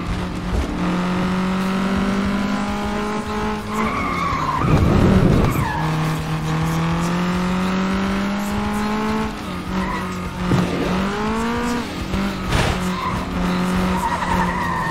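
A race car in the FlatOut 2 video game skids and slides across grass, its engine droning loud and close with tire squeal and scrabbling bursts as it loses grip, the revs rising and dipping through the slide.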